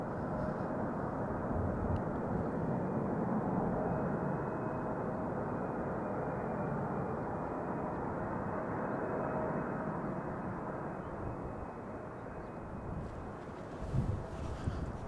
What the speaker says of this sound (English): The Singapore Airlines Cargo 747, I'm assuming it is already in Dutch airspace.